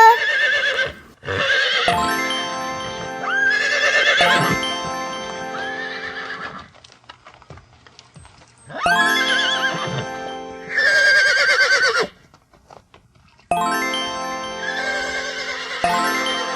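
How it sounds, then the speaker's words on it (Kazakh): A horse neighs loudly and repeatedly, with several long, shrill whinnies separated by short silences, close and clear with faint hoof clatter in between. "Жылқы."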